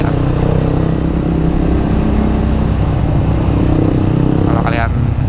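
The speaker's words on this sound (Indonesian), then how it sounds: "Kalau kalian dengar knalpot gue, coba tulis di kolom komentar deh, suka atau nggak suara knalpotnya." Suzuki GSX-S150 motorcycle with a modified aftermarket exhaust, running steadily with a loud, continuous low engine drone and a brief higher blip near the end, close to the microphone.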